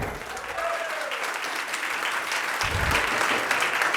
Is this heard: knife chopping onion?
no